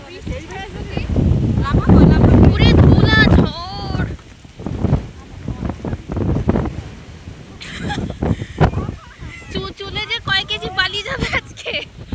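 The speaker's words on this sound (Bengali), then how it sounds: "দেখো এখন থেকে শুরু হয়ে গেল খুব জোরে বাতাস" Strong storm wind gusts roar and buffet the microphone in a park while people talk loudly over the rushing noise.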